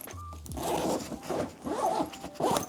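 A zipper on a Tortuga Superlite travel backpack with non-PU coated zippers is pulled in several quick, smooth rasping strokes at close range, with no talking.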